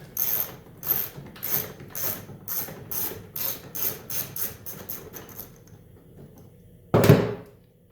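A ratchet wrench clicks in quick bursts while loosening small 11 mm bolts on a Jaguar's oil bottle, about a dozen rapid rhythmic strokes, then a pause and a single heavier clunk of metal.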